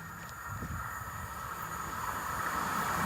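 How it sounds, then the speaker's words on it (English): An East Midlands Railway passenger train from Nottingham to London St Pancras rumbles past a level crossing at moderate distance, a steady low rolling of wheels on track under a faint high hum, holding even for a few seconds. "The 1219 East Midlands Railway service from Nottingham to London St Pancras."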